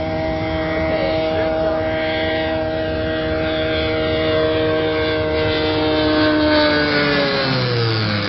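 Small airplane passing overhead outdoors, a steady droning engine hum that holds loud and even, then shifts slightly in pitch as it goes by, with no talk over it.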